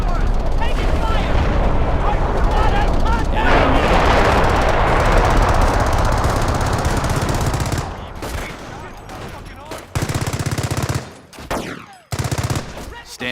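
Heavy machine-gun fire and explosions in the World War II strategy game Company of Heroes, a loud continuous barrage that breaks into scattered bursts and booms, with voices shouting among the shots.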